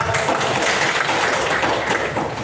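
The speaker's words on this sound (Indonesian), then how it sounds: "Tepuk tangan buat" Students in a high school classroom clap together in a short, dense burst of applause that stays steady and fairly close before tapering slightly at the end.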